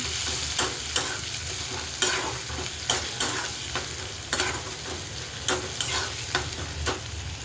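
Garlic, chilli, turmeric and tomato sizzle steadily in a pan while a spoon stirs with repeated scraping strokes, close and fairly loud, with no voices.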